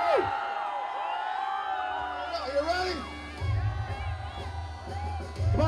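A crowd at a Mumbai promotional event for Force 2 with WWE wrestler Sheamus and John Abraham cheers and whoops in loud, sustained waves, with a host shouting over it and a low rumble building near the end.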